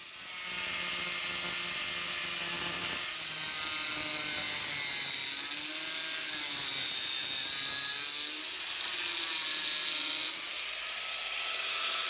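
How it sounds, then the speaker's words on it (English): An angle grinder cuts off the overhang on a letterbox, whining loudly and continuously with high-pitched grinding that shifts in pitch as the disc bites, close and alone. "This overhang helps to protect the front from the weather, but the new timber top will do that, so I cut it off with the grinder."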